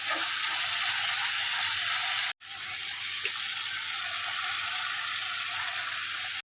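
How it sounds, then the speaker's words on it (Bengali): Boiled chana dal is tipped onto hot spices frying in a pan, giving a loud, steady sizzle that cuts out briefly partway through and then resumes. "সেদ্ধ করা ডালটা আমি এটার উপরে দিয়ে দিলাম, মশলাটার উপরে।"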